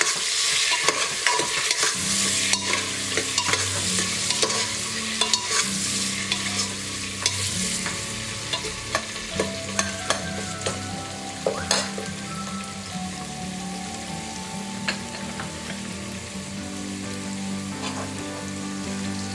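Onions with turmeric sautéing in a pressure cooker crackle and sizzle steadily, with repeated spatula scrapes and taps against the metal, close and fairly loud, without talk.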